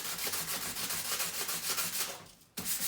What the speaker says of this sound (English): I'm just going to do a little sanding in the middle again to distress it.